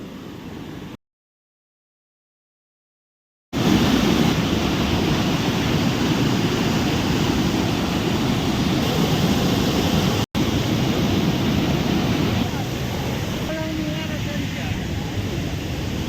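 The overflowing Rupavati river below the Moj dam surges as floodwater in a loud, continuous roar. The sound cuts out to silence briefly near the start, then resumes and holds close and steady.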